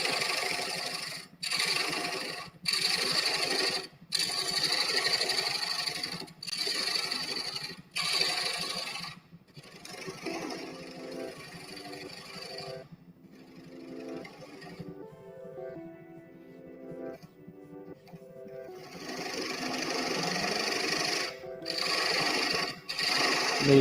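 Wood lathe turning a ladle with a dull carbide cutter, the spinning blank giving a steady whir broken by repeated scraping, chattering cuts and brief pauses.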